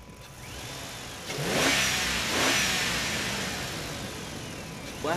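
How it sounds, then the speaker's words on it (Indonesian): A toy sand truck reversing, its motor whirring and rising in pitch in a couple of swelling revs that build and fall back, heard close and alone. "Wah teman-teman, truknya mundur teman-teman."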